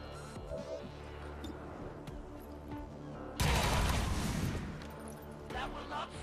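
A sudden loud burst of gunfire from XCOM 2 cuts in midway over steady game background music and sound, ringing for about a second before fading back.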